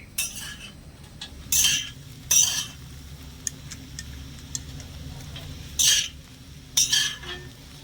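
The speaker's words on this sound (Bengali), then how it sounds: "আলুটাও নেড়ে ছেড়ে মিশিয়ে একটু ভেজে নেবো" A spatula stirs and scrapes potatoes frying in a pan for a vegetarian jackfruit chop, giving four or five short, sharp metallic scrapes over a quiet low background.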